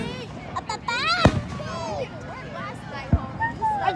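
Fireworks go off at a public display in Holyoke, with two sharp booms about two seconds apart amid crackling and whistling, heard at moderate distance while people talk and exclaim nearby.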